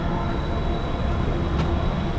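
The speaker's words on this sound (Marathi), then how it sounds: "जर तुम्ही सेंट्रल लाईनने येणार असाल तर हे रेल्वे स्टेशन आहे" A steady, dense rumble of a train running past on the tracks at Curry Road railway station in Mumbai, with a faint metallic whine above the roar.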